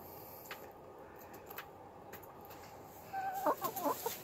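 Faint, soft chicken clucking nearby, with a few brief pecking taps, then a short burst of louder clucks toward the end.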